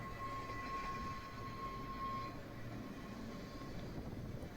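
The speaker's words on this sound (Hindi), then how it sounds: "और हर समय ट्रेन का आवागमन यहाँ पे बना रहता है।" Train on the Isle of Man railway rolling steadily past, a continuous rumble of wheels on track with a faint high squeal, no voices.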